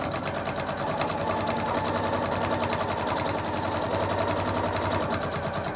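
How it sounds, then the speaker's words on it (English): A sewing machine stitches a seam on a laptop bag, running at a steady, continuous hum with a fast rhythmic needle pulse, close and loud throughout with no pauses. "So, I am now going to stitch roughly an eighth of an inch."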